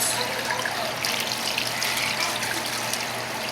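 Steady tap water runs and splashes while a whole chicken is rinsed at a kitchen sink, a continuous close hiss with no pauses or talk.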